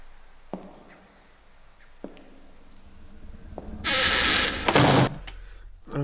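A designed door sound effect, tweaked in a sound-design project: a few isolated thuds, then a loud burst of noisy rattling and a heavy slam, close and alone with no talk.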